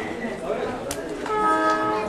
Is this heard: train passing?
yes